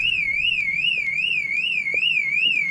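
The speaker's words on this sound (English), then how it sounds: "the fact the alarm's gone off is a good sign" A car alarm sounds on a cheap VW Beetle, a loud warbling electronic siren rising and falling in steady rapid cycles, close by and alone.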